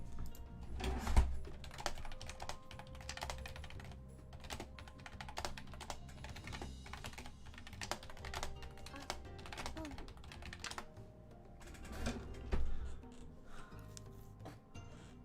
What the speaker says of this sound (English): Typing it out, obviously, for the people who are at my table.